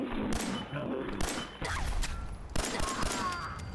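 Bursts of gunfire from a gun loaded with 10mm ammo in Fallout 4, several rapid sharp shots in quick clusters separated by brief gaps, loud and close.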